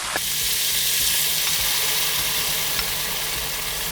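Loud, steady sizzling and frying hiss as boiling water is poured into a hot pan of seafood, with a few faint clicks and stirring sounds underneath; no voices.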